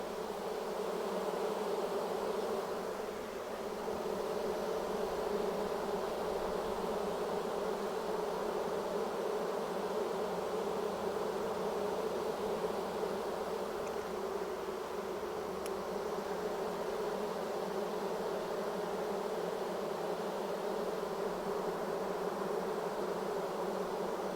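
A massive honeybee swarm fills the air with a dense, steady buzzing hum that stays constant and close for the whole stretch, with no voices over it.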